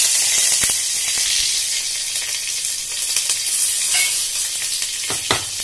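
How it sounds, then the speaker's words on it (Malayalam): Curry leaves hit hot oil in a pan of country-style roasted chicken curry, setting off a loud, continuous sizzle with a few sharp crackles and stirring scrapes near the end. "ഇനി ഞാന് കുറച്ച് വേപ്പിന്റെ ഇല, കണ്ടോ വേപ്പില അതിലേക്ക് ഇടാൻ പോവാണ്."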